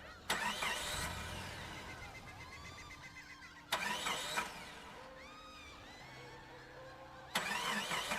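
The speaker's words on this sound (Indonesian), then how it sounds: "Aku berusaha menghidupkan mobil, lagi-lagi sial dan aneh, tiba-tiba mobilku sulit dihidupkan." Car engine cranking repeatedly but failing to catch, three separate bursts of loud starter whirring with quieter pauses between attempts, close by and without talk.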